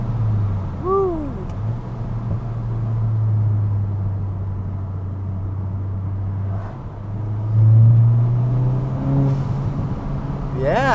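A VW MK8 GTI turbo engine with an aftermarket intake and turbo inlet hums under load while a faint voice talks over it. Short whooshing blow-off valve bursts come early and near the end, and a rise in revs builds toward the close.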